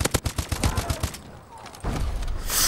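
Rapid gunfire from a weapon in Call of Duty: Advanced Warfare cracks out in a quick string of shots, pauses briefly, then resumes, loud and close.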